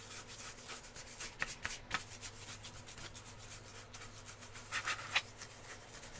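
Sandpaper rubbing back and forth over an aluminum knife handle, a steady close scratchy friction with a few sharper strokes, alone with no talk.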